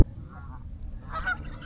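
Wild geese honking outdoors on a Cape Cod trip in Massachusetts, a few calls at moderate distance over steady low background rumble, with no talking.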